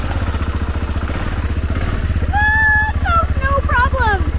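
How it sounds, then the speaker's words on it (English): A BMW G650GS single-cylinder motorcycle engine runs with a steady close idle chug just after a new main wire harness was fitted, while people talk excitedly over it in the second half. "Bike is running."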